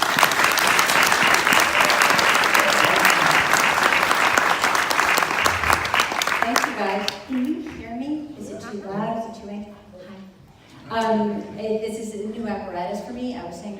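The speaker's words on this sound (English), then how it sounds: "let's give a very, very warm applause for our guest speaker tonight" An audience gives warm applause to a guest speaker at an evening talk. Loud, sustained clapping fills the first half and then fades, after which someone speaks clearly over the quieter room.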